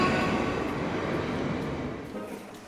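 A train rumbles along with a broad, steady roar that gradually fades and thins out toward the end.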